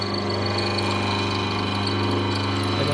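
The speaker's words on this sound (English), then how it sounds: "We're going to turn the machine on, and then I'll show you how it operates on switches located here." A mortising machine runs steadily in a wood shop, its motor giving a constant loud hum with layered tonal whine and no breaks across the stretch.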